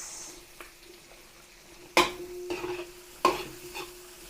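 Garlic and onions sautéing in a pot for a large batch of Filipino apritada, a soft steady sizzle punctuated by two sharp scraping stirs of a utensil against the pot.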